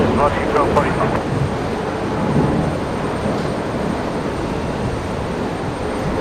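A Fokker 100 jet airliner in Southern Cross livery departing Brisbane Airport during a cyclone evacuation, a steady broad distant engine roar with a few faint voices early on.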